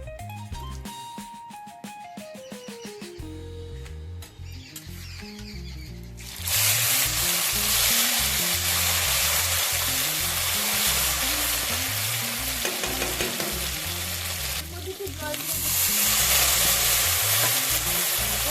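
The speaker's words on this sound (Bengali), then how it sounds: "এর মধ্যে দিয়ে দিচ্ছি ফোটানোর জন্য গোটা জিরে আর দুটো তেজপাতা" Whole cumin seeds and two bay leaves hit hot oil for a prawn malai curry, bursting into a loud, steady sizzle with stirring scrapes that swells again near the end, after a quieter opening.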